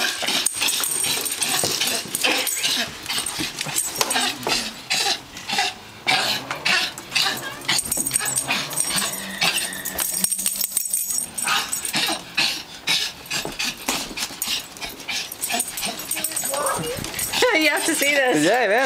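A dog whimpers, yips and barks repeatedly while a man keeps calling and coaxing it, with coughs and throat clearing mixed in among the close, busy sounds.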